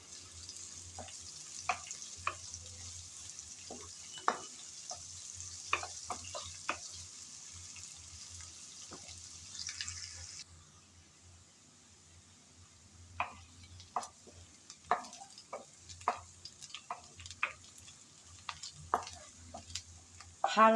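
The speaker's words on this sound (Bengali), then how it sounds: "পেঁয়াজ কুচি দিয়ে হালকা ব্রাউন কালার করে নেড়ে চেড়ে ভেজে নেব" Chopped onions stir-fried in a pan until light brown, with a soft steady sizzle beneath repeated sharp scraping and clinking of a spatula stirring, close and fairly quiet.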